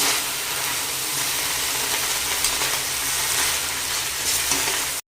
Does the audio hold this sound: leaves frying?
yes